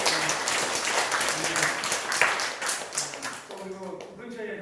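A church congregation claps in a sustained round of applause, dense and even for several seconds before tapering off as a voice begins speaking near the end.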